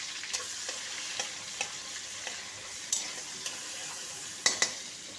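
Sliced onions and a bay leaf fry in hot oil, a soft continuous sizzle broken by regular scrapes of a spoon stirring the pan, quiet and close with no talking.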